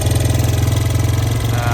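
A Honda XR100 dirt bike engine fitted with a new Honda NSF100 OEM exhaust runs close and loud, with a fast, even pulsing idle throughout.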